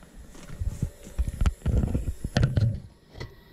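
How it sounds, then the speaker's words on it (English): A 2005 Carrier 38BYC heat pump shutting down in heat mode outdoors, giving a rough, low, sputtering rumble that bursts and fades over a few seconds, fairly close and loud with no talk. "It still has that funny shutdown that sounds like a fart."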